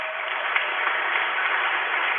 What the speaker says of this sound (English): Get a round of applause for these students.